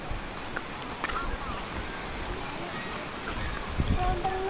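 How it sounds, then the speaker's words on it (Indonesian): A river flows at Leuwi Sapi in Cimande, a natural beauty spot, heard as a steady rushing wash mixed with wind buffeting the microphone, with faint voices and footsteps in the background. "Oh, aliran air sungai."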